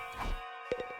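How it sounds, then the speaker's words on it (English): A short electronic doorbell chime rings in the video game Hundred Line Last Defense, a couple of clear bright tones fading quickly, followed by a few faint soft knocks. "Whoa, how did the doorbell work?"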